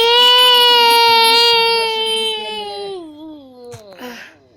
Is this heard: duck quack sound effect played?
no